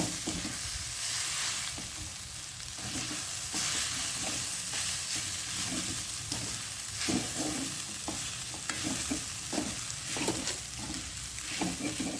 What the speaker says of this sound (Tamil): இப்போ வந்து எல்லாத்தையும் வடிவாக பிரட்டியாச்சு